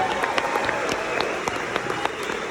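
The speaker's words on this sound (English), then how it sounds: "Give yourselves a round of applause" An audience at a comedy show claps and cheers in one continuous burst of applause that fills the room from start to finish.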